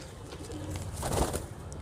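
Tonk breed Doodiya Bajre pigeons, an old Indian high-flyer breed, give a soft brief coo close by against a faint rustling background.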